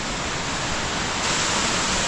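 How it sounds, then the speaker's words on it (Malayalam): A waterfall near Malana village in Himachal Pradesh roars as a loud, dense, unbroken rush of water, close and steady throughout, with no voices. "നമുക്കിത് ഇവിടെ ഒരു വെള്ളച്ചാട്ടം കാണാം കേട്ടോ"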